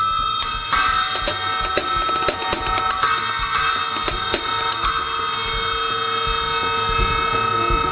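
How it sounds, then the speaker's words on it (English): A small bright 8-inch ice bell is struck repeatedly, its high metallic ring sustaining and overlapping into a long shimmering decay, loud and close. "This is a little ice bell."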